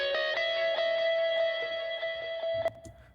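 Electric guitar notes with a reverb effect applied, a sustained ringing tone and a few plucked accents that trail off into a soft reverberant tail near the end.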